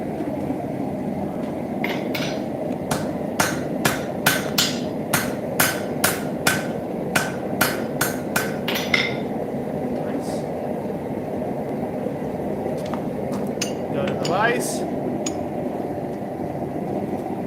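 A railroad spike is struck with a hammer on an anvil, a quick series of about fifteen sharp, ringing metallic blows close by, then a few scattered clinks and shop noise as someone talks.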